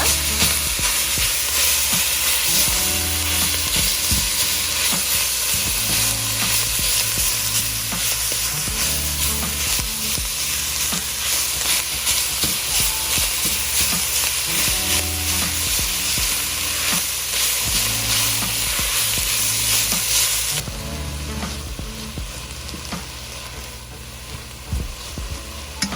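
Meat browns in a hot pan with a constant loud sizzle and frying hiss, broken by rhythmic scraping stirs throughout, close and unvoiced before the sizzle drops in intensity near the end.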